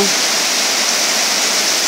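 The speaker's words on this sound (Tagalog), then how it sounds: "Kasi malakas talaga yung ulan" Heavy typhoon rain pours down in a dense, steady hiss that fills the whole moment, loud and close, with no voices.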